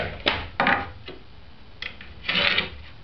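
A marked line is scribed along a wooden board for a birdhouse, giving several short dry scraping strokes, close and fairly quiet, each lasting a fraction of a second with pauses between.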